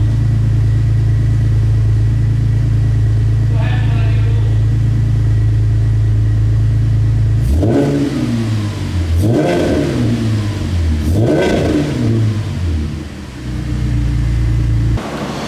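A Pontiac G8 idles with a deep, heavy exhaust rumble, then revs up three times in succession, each throttle blip swelling loudly before dropping back to the low, steady idle.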